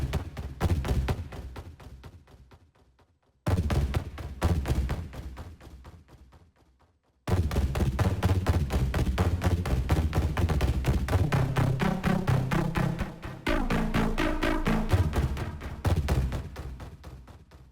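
Synth hits from the Massive X "Idiot Walk" preset over a steady pounding kick drum, in three phrases separated by short gaps, each ringing out with a reverb tail.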